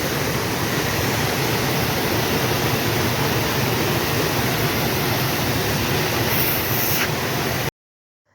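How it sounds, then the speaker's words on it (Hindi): A waterfall swollen by heavy rain near Munnar pours across a road, a loud continuous roar of rushing water that holds steady for about seven seconds and then cuts off abruptly into silence. "बारिश ऊपर से भी हो रही है और झरने का जो पानी गिर रहा है ना, पूरी रोड से ऊपर आ रहा।"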